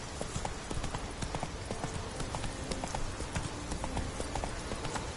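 Hooves pound rapidly in a galloping clip-clop rhythm as a horse runs in the video game The Witcher 3, a dense steady stream of hoofbeats at moderate volume.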